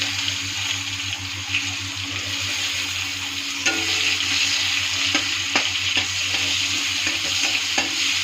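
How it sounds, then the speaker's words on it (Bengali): Chopped onion fries in oil with a dried red chilli and a pinch of asafoetida for soybean bhaji, giving a loud, steady sizzle with occasional stirring knocks and scrapes and no talk. "পেঁয়াজটা একটু ভাজা করে নেব।"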